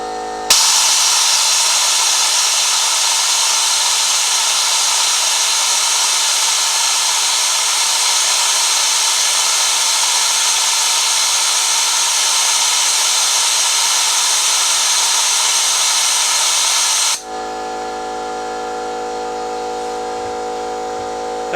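A Harbor Freight spark plug cleaner blasts carbon off a spark plug with a loud, steady hiss of abrasive air that holds for about sixteen seconds, then cuts to a quieter hum.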